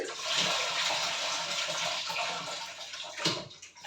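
Water drains off soaked rice in a steady close pour, a hissing rush that swells and fades, ending in a brief splash, with no voices.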